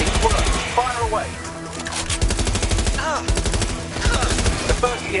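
Rapid machine-gun fire from the video game Watch Dogs Legion rattles almost continuously and loudly throughout, mixed with game sound effects and brief voice fragments.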